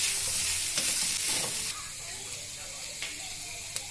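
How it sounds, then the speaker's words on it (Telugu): Pre-fried chicken pieces sizzle loudly in a hot pan over high flame for street-style chicken fried rice, with a few scraping stirs of a spatula cutting through the steady frying hiss. "ఇప్పుడు ముందుగా ఫ్రై చేసిన చికెన్ ముక్కలను కూడా దీనిలో యాడ్ చేసుకొని ఫ్రై చేసుకోవాలి."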